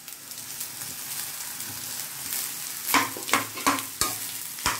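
Cooked rice is mixed with lemon juice and salt over a low sizzle, then several distinct scraping strokes of a spoon against the pan follow in an uneven rhythm, close and with no one talking.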